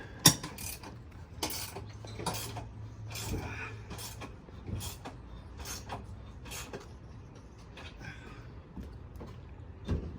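A ratchet tightens bolts on a rooftop tent mount, producing repeated bursts of quick, close clicking strokes with short pauses between them, with a faint low hum underneath.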